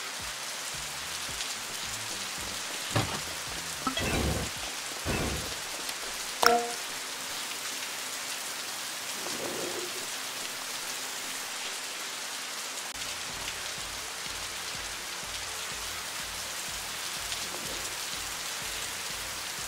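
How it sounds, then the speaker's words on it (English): Rain falls steadily in the video game Youtubers Life 2, a soft, even patter throughout with a few faint thuds and clicks from game sounds. "Oh, it's raining too."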